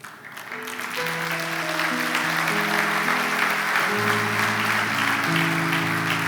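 A church congregation at a worship service claps together while sustained keyboard or organ chords ring beneath, the applause rising after the first second and staying full and even to the end.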